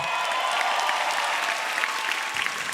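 Studio audience applauding a stand-up comedian, steady dense clapping from a crowd throughout, fairly loud and even with no voices over it.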